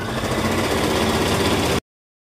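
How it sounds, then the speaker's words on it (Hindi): A sewing machine stitches the fitting seam on the side of a kurti with a fast, even mechanical rattle, close and steady, then stops abruptly into silence. "अब बूट को हम नीचे कर देंगे और यहाँ पर सिलाई लगाएंगे"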